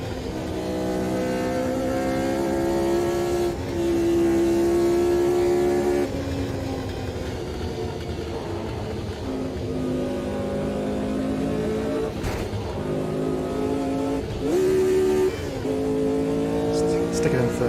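A racing car engine revving hard in the sim racing game Automobilista 2 on the 1971 Nürburgring, a loud continuous tonal drone that rises and falls through the gears with brief shift breaks, while someone talks over it.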